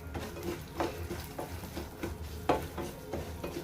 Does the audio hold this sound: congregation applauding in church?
no